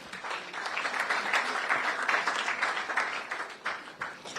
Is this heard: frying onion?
no